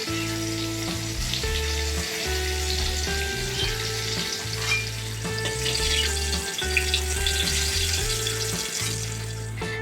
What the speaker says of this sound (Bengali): চাল কুমড়গুলি আমার হালকা ভাজা হয়ে গেছে, উনুনের আঁচটা বাড়িয়ে হালকা ভেজে নিয়েছি